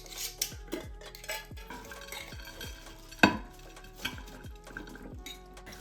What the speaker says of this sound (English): Toss it together so all the veggies get coated in the dressing